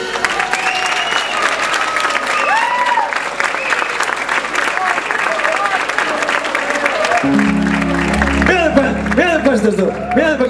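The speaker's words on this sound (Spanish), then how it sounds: "dale un aplauso grande a Rechar" An audience at an orchestra performance claps steadily and densely for about ten seconds, with voices calling out over the applause and music cutting in near the end.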